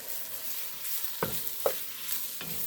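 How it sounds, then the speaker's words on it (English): Dried parsley stirred into a pot of gumbo: a soft continuous simmering hiss underlies three or four separate spoon scrapes and knocks against the pot, close and fairly quiet, with no voices. "And kind of stir that up."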